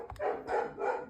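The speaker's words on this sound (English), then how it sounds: "The dog keeps barking there at my neighbor." A dog barks at a neighbor, giving two or three quick barks in a row, fairly faint and at some distance, as if heard from indoors.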